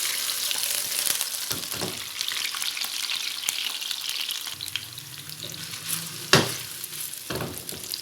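Beef koftas frying in a kadhai that is shaken by hand, a loud close sizzle broken by scraping rolls and sharp knocks of the pan, with a lower rumbling shuffle midway and no talk.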